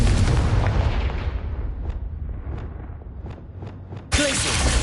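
The Confringo fire blast spell in Hogwarts Legacy bursts with a heavy booming explosion that rumbles and fades over several seconds before a second sharp blast erupts near the end.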